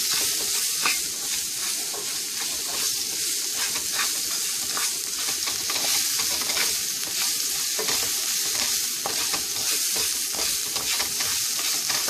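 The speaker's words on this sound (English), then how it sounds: "And now I'm just going to saute it a little bit here." Rice and garlic sauté in a hot pan with the heat turned off, giving a steady, loud crackling sizzle that holds evenly throughout without any talking.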